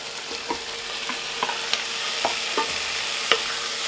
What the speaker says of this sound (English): Cooking well, so in with the beef.